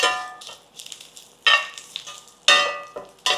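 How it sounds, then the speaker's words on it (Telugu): Green chilies and curry leaves fry in hot oil with crackling, spitting bursts and scraping stirs, loud and close, in irregular pulses. "పచ్చిమిరపకాయ లైట్గా వేగింది, కరివేపాకు కూడా వేగింది"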